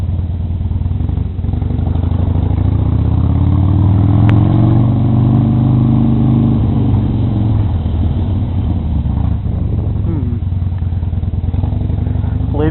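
A Harley motorcycle rounds a corner on a road, its loud, close engine rumbling steadily with wind buffeting and a slight swell in pitch mid-way through the turn.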